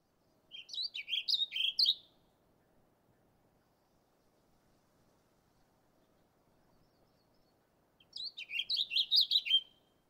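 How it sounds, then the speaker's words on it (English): A warbling vireo sings two rapid, warbled phrases, one at the start and one near the end, each a quick run of bright rising and falling notes, heard close and clear over a quiet background with a long pause between. "This is a warbling vireo."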